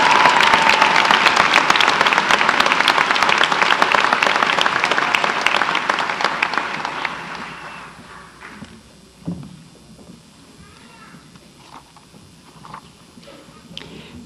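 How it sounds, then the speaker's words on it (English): Loud, sustained applause from a large audience for graduates at a State College of Florida spring graduation ceremony, dense and steady for several seconds before thinning out and fading to scattered claps and room noise. "One more applause for these outstanding graduates."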